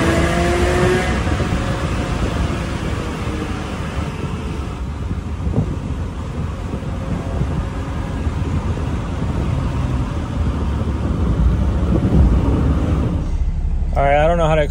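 A Porsche 911 cruises on a freeway in traffic, a continuous loud roar of road and wind noise that holds steady throughout, with no distinct engine revs standing out.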